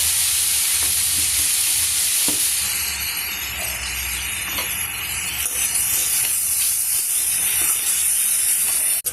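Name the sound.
radish vegetable frying and steaming in a pan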